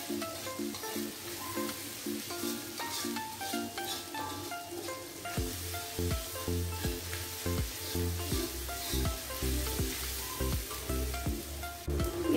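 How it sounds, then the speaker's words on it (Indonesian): Garlic sautéing in oil in a pan, a steady soft sizzle with occasional stirring scrapes, fairly faint and without speech. "Saya akan tumis bawang putih"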